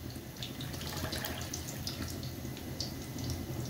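Blended yanang leaf juice pours into a pan in a steady, close, continuous liquid splash and trickle that lasts the whole moment without any talk.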